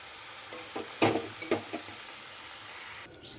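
Kulekhara leafy greens hit hot oil in a wok, giving a few sharp sizzling bursts and scraping stirs that settle into a quieter low fry.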